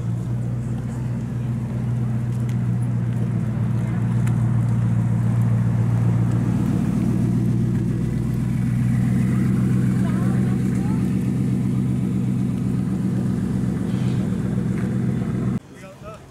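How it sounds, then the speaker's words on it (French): A Bugatti Chiron pulls away outside the Bugatti factory, its engine a steady low drone that holds for several seconds before cutting off abruptly, with faint talk in the background. "Je vais quand même vous filmer la Chiron qui est en train de partir"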